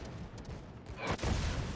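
Naval guns from the cruiser Atago firing in World of Warships, a dense rumbling barrage that swells louder in the second half, heard close with no talk.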